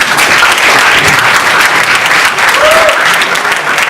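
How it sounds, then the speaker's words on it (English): Loud, warm applause from a crowd at a 2018 graduation ceremony in Florida, dense sustained clapping throughout with faint voices mixed in. "For that warm applause."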